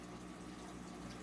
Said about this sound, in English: having some air bubbles in there is not going to be that big of a deal for me